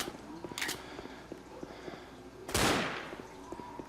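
Two heavy blasts from an auto pump shotgun in Left 4 Dead, a short one followed by a louder, booming shot with a long decay, over a faint, busy background of game noise.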